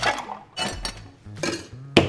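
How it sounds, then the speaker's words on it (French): Ice cubes dropped into a cocktail shaker while making a green-tea mint drink, heard as a few close, clattering clinks in separate bursts, with a sharper final knock. "Des glaçons dans mon shaker"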